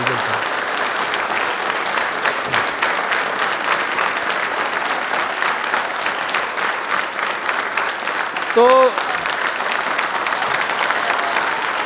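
Loud, sustained audience applause for an honoured guest at a quiz programme for Dr. B. R. Ambedkar's birth anniversary, dense crowd clapping filling the whole stretch with a brief faint tone near the end.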